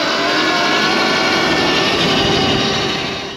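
A Sur Ron Ultra Bee electric motorbike revs with a loud, dense, high whine and rushing noise held steady for a few seconds, easing slightly at the very end, no talking.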